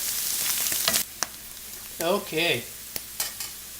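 Mushrooms sizzle in a frying pan under a soft, steady hiss, broken by sharp clacks and scrapes of stirring; a voice speaks briefly in between.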